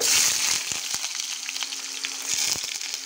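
Chopped onion frying in hot oil with five-spice seeds for a taro stem and dal dish, a loud close sizzle with a few stirring knocks, no speech.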